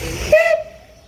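The steam locomotive Mazutka gives one short, loud, shrill whistle blast amid hissing steam, then the tone fades into quiet.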